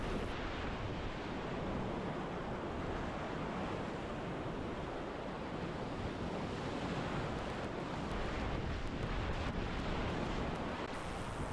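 A rowing boat drifting through a rapid on the Middle Fork of the Salmon River at a low 3.4-foot water level, with a steady loud rush of churning whitewater and wind filling the whole stretch, without any voices.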